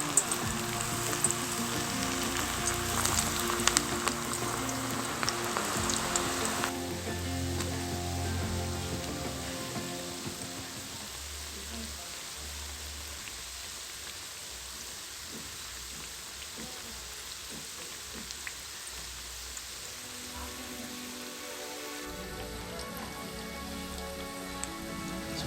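Food sizzling steadily in hot oil in a pan over moderate heat, a continuous crackling hiss with scattered pops that stays fairly even throughout, with no talking.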